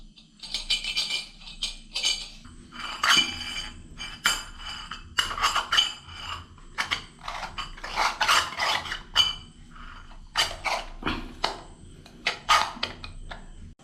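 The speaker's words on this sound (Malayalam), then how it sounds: "അതിനായിട്ട് ആദ്യം ആംഗിൾ വാൾവ് ഫിറ്റ് ചെയ്തെടുക്കാം." An angle valve wrapped in Teflon tape being fitted for a European-style toilet tap, with irregular metallic clinks, taps and rattles of tools and fittings, close by.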